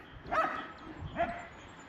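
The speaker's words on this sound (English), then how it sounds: "the dog just starts barking at the cat just as I start talking." A dog on an Irish farm barks at a cat, two sharp barks about a second apart, close and fairly loud over quiet outdoor background.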